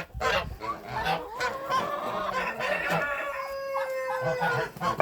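Geese honking loudly alongside clucking bantam chickens, a noisy overlapping chorus of squawks up close with no let-up.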